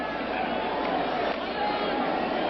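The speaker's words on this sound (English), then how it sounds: "there's a sellout crowd here at Jack Murphy Stadium" A sellout crowd at Jack Murphy Stadium in San Diego fills the air during a 1985 Steelers–Chargers football game, a dense, steady roar of chatter throughout.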